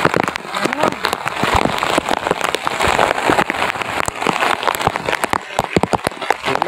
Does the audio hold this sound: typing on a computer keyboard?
no